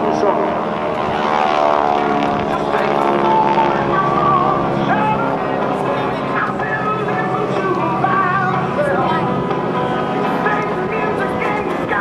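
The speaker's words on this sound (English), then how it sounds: "Watch as the lead solo maneuvers his aircraft in a lead turn and ends up in a position behind his opponent" GEICO Skytypers propeller aircraft maneuvering through a lead turn at the 2014 NAS Oceana airshow, a loud sustained engine drone with shifting pitch, heard under an announcer's commentary.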